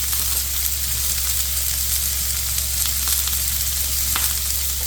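Onions and carrots frying in a pan, starting pea and ham soup: a steady, loud, continuous sizzle close by with faint scattered crackles and no pauses.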